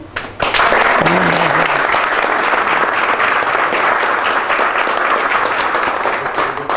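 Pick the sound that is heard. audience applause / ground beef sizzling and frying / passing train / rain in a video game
audience applause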